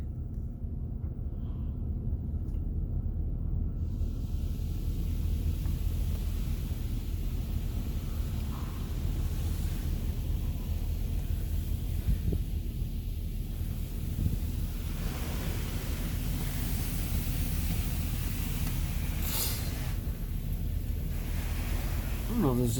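An automatic car wash at an Esso station in Aylmer sprays pre-soak onto a vehicle, a steady, loud wash of hissing spray and rushing water that runs without a break from start to finish.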